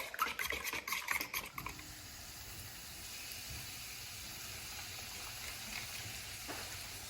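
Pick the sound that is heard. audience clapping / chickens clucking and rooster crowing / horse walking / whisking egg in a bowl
whisking egg in a bowl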